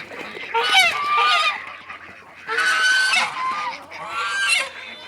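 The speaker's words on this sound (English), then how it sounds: "There's the other goose." White Chinese guard geese on a farm honk loudly in three close bursts of harsh, repeated calls, with brief quieter gaps between them.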